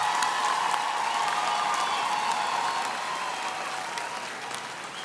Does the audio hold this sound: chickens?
no